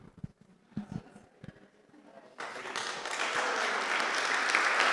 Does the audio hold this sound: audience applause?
yes